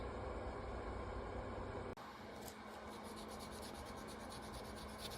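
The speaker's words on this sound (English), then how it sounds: "Now we're just polishing up some of the bearing surfaces on the sear spring." Steady close rubbing and scraping of polishing the bearing surfaces of a metal sear spring on a Springfield Prodigy pistol, a continuous abrasive hiss that shifts briefly near the start before continuing evenly.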